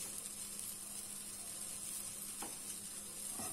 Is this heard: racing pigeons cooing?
no